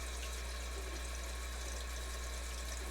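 Cold tap water runs in a steady, even hiss with no break, poured over freshly churned homemade butter to rinse it.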